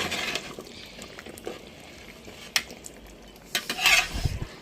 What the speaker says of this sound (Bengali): আমরা একটু নেড়ে দিই গোস্তটাকে